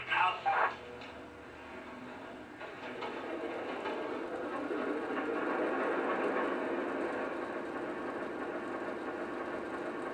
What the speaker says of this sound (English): Now with both locomotives on the track, that sound really happens in stereo and it's really quite impressive